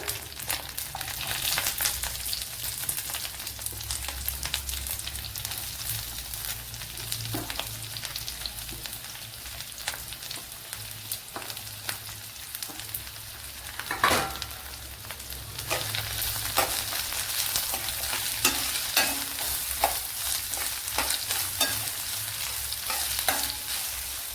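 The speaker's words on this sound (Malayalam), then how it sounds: "ഇനി ഇതിലേക്ക് ഒരു സവാള ചേർത്ത് കൊടുക്കാം." A small onion frying in hot oil in a pan for pappadam curry, with a dense, steady close sizzle and frequent scraping stirs throughout, and no talk.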